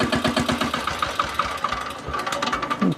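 An Indian-made power tiller with a back rotary runs its engine nearby, a loud rhythmic chugging thump, alone with no voices.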